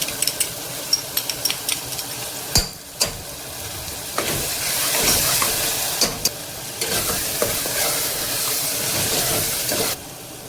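Turmeric, coriander powder and red chilli powder stirred and frying with mashed tomato in a hot pan for khichdi: a steady, close sizzle with repeated scraping stir strokes and short sharp clatters, and no talking.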